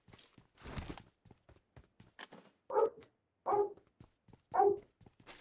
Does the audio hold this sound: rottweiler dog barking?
yes